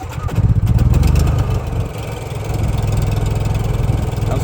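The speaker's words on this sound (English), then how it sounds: "I'm going to try and start the generator now that I have cleaned the spark arrestor." A Honda EU3000 generator engine pulls over and catches, then settles into a steady, close, even running hum.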